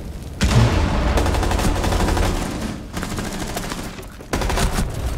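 Rapid bursts of gunfire in Rainbow Six Siege crackle continuously, a dense volley that briefly drops away mid-clip before another loud burst resumes.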